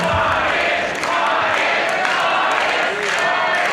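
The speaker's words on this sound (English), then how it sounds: "Now Tordsen is getting a round of applause here from the DPW faithful." Wrestling crowd at a DPW show applauding and cheering, a steady wash of clapping and crowd noise that stays fairly loud throughout, with commentary voices mixed in.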